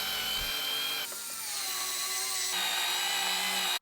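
A power driver runs steadily and close by while driving screws to join wooden cat house pieces with L brackets, its whine shifting pitch in two or three stretches before cutting off abruptly.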